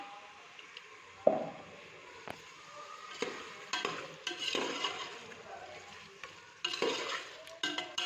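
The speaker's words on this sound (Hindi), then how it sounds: "तो यहाँ पर जी मैंने थोड़ा सा पानी डाला है।" Water poured into a pan of frying chicken with masala while making chicken shorba, giving loud bursts of sizzling and hissing with scraping stirring throughout, close up and without talk.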